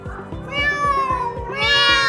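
Cats meowing in a drawn-out, wavering cry that rises and bends down, loud and close, over a steady low pulsing beat, with a second yowl starting near the end.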